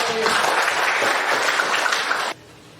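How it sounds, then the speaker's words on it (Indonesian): Applause from a class during a biology lesson, a dense burst of clapping at close range that carries steadily for about two seconds and then cuts off abruptly, leaving quiet room tone. "Baik, luar biasa, berikan tepuk tangan"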